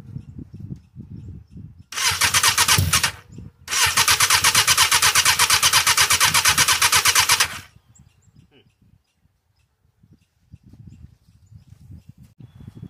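A 750cc Katana go kart engine cranks over, catches and revs hard in a loud, close, raspy roar, drops out briefly, then runs again for several seconds before cutting off, with someone talking quietly before and after.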